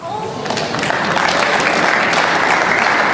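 A snooker crowd at the Northern Ireland Open breaks into loud, sustained applause for a break, the clapping rising quickly and holding steady throughout.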